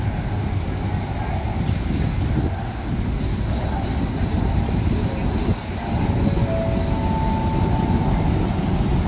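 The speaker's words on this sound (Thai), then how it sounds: "อัสตอมสี่สองสองศูนย์ทำขบวนสามหนึ่งสี่" An Alstom locomotive, number 4220, hauling suburban train 314 out of Ban Phachi Junction, a loud continuous low rumble with a brief dip midway and a faint tonal whine near the end.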